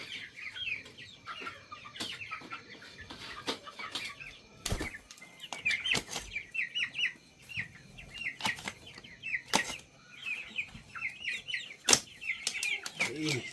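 Chickens being let out of a coop one at a time, with repeated bursts of wing flapping, scattered clucking and squawks, and sharp knocks, close by, while someone talks to the birds between the sounds.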